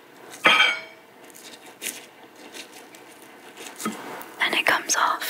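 A knife scraping charred skin off roasted poblano chiles for espagueti verde, soft close rasping strokes with a few louder scratchy passes near the end, under quiet whispered talk.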